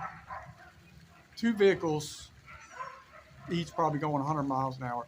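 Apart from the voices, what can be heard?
dogs barking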